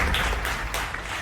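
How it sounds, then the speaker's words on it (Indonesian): A studio audience on a talk show claps in a short, dense burst of applause, steady and fairly loud for about a second. "Yuk kita beri tepuk tangan dulu dong"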